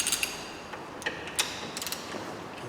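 A breaker bar on a T55 Torx bit cracks loose a front brake caliper carrier bolt on a Peugeot 208, giving a few sharp metallic clicks and creaks scattered over a quiet background.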